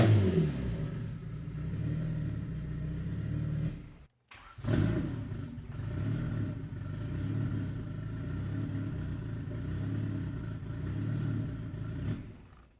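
Turbocharged Honda Civic built to about 350 hp revs on the throttle, a steady loud engine roar that cuts out sharply for a moment, then climbs back and holds before dropping off at the end.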